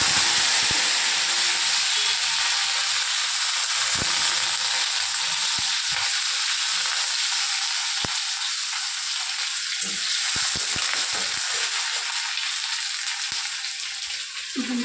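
Potatoes and egg frying in a small amount of oil, a steady close sizzle and hiss that runs unbroken throughout, with occasional small clicks of stirring and no talking.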